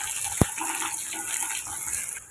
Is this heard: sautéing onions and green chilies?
yes